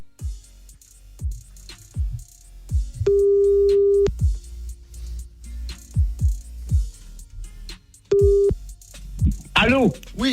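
A radio show caller is rung back: tones beep through the line twice, each held for about a second, amid studio chatter and talk from the hosts.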